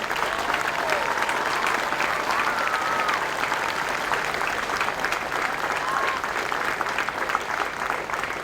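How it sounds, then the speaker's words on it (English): An audience applauds veterans at a Department of the Air Force BMT graduation ceremony, with steady, dense clapping sustained throughout and a few whistles rising above it. "How about a round of applause for our veterans?"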